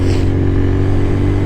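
Cafe racer motorcycle with its exhaust baffles still fitted, idling as a steady, close, loud low rumble with a throbbing beat that holds even for the whole moment, no talk.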